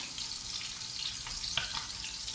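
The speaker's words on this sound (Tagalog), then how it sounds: "Tingnan mo yung mantika, talsik talaga, no?" Tamban sardines frying in spattering hot oil in a pan: a continuous close sizzle with a few crackling pops and a brief bright clink near the end, and no talking.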